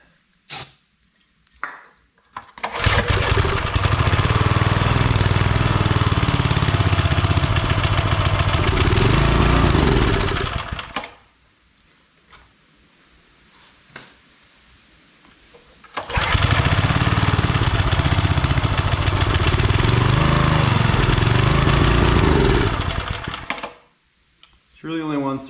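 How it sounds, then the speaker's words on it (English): Homemade wood splitter's small gas engine running on choke with a rough, loud, steady drone in two long bursts, each ending abruptly, separated by a quiet gap. "It really only wants to run on choke, which means its carb probably needs a cleaning."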